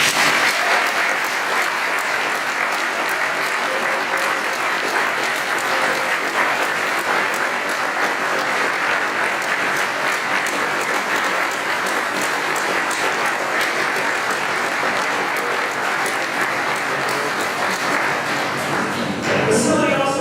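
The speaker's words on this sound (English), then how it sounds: "How about we have a big round of applause for all these heroes that work here?" A crowd applauds at a fire station grand opening ceremony, dense sustained clapping that holds steady and loud for about twenty seconds, with faint voices beneath it.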